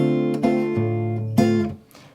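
An acoustic guitar plays a short second bar of bossa nova rhythm, a bass thumb note and plucked chord stabs in quick syncopated succession, close and clear, ending with a muted fade, no talk.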